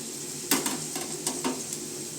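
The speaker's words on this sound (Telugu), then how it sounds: "ఆయిల్ హీట్ అయ్యాక ఆనియన్స్, చిల్లీస్ వేసుకోవాలి" Onions and chopped chilies go into hot oil in a pan and start sizzling, with a few quick stirring scrapes and light clinks of a utensil against the pan, all fairly faint.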